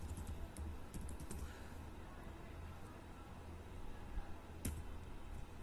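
Keys tapped on a computer keyboard while working in MS Excel: sparse, faint clicks and taps in an irregular rhythm over a low background hum, with no talking.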